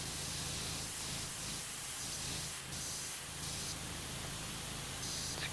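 A pressure washer sprays steadily in PowerWash Simulator 2, a continuous broadband hiss with slight variations in intensity as the jet moves across surfaces.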